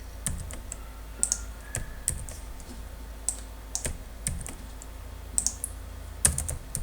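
Typing on a computer keyboard: irregular, close, fairly quiet keystrokes tap out in short runs and single presses over low background hiss.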